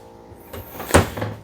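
A full-extension ball-bearing drawer glides in an RV travel trailer kitchen, a Four Season Alta 3100KXT prototype, giving a quick near rolling slide that ends in a sharp close knock followed by a softer settle.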